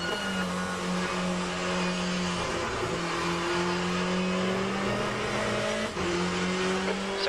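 GTE race car in the rFactor 2 sim racing game at Donington Park, its engine droning steadily with rising and falling harmonic pitch as it accelerates and shifts, loud and continuous with another car's note layered in.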